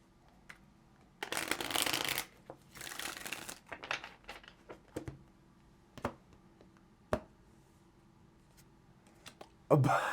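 Tarot cards being shuffled close up in two brisk riffling bursts, followed by scattered soft clicks and taps as cards are handled and laid down.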